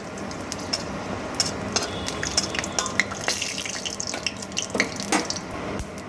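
Dry red chilies and whole garam masala sputter in hot oil as they are stirred, a crackling, watery sizzle broken by irregular sharp pops and clinks close by.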